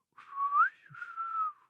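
One person whistles a short phrase of two gliding tones, with a brief break between them, clear and alone in a quiet room.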